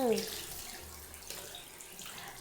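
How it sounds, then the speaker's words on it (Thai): A faucet runs into a sink during mouth rinsing and toothbrush washing, a soft steady splashing trickle at close range with faint background noise. "บ้วนปาก ล้างแปลงสีฟัน"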